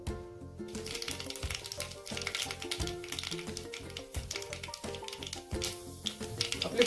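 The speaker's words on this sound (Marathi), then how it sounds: "आपलं तेल आता गरम झाले त्यात मी 1 चमचा मोहरी घालणार आहे." Mustard seeds crackle and pop in hot oil in a kadai, a dense, continuous spattering that stays fairly loud and steady throughout, with a tonal hum running underneath.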